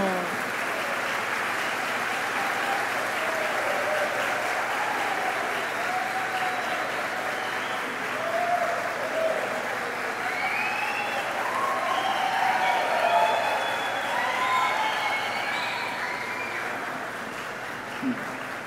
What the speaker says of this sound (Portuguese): com a grande salva de palmas